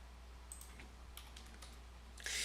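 Several light keystrokes tapped on a computer keyboard at a modest pace, quiet and close, ending in a brief louder burst of hiss.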